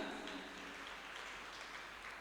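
Audience clapping at a junior school graduation ceremony, a steady wash of many hands applauding throughout, moderately loud and unbroken, with no clear voices over it.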